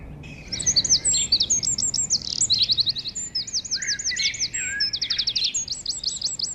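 Bright, rapid willow warbler song with repeated descending whistled phrases, continuous and fairly close, with overlapping chirps throughout.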